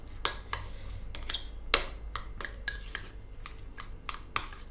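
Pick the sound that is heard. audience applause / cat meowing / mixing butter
mixing butter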